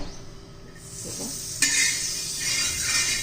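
Butter hisses and sizzles on a hot dosa griddle, starting quietly and then jumping to a loud, steady crackle with a brief scrape of a utensil.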